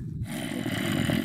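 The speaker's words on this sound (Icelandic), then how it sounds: "Ó, það er zombie líka." Minecraft zombie groaning inside a house during gameplay, a low, rough, continuous moan that fills the whole short stretch at steady loudness with no talk over it.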